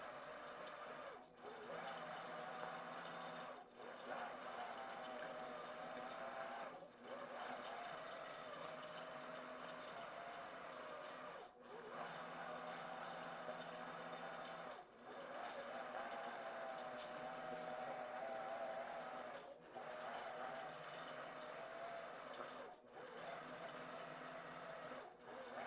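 A computerized long arm quilting sewing machine stitches with a steady, fast mechanical whir and hum, broken every few seconds by brief pauses, heard close and continuous without talk.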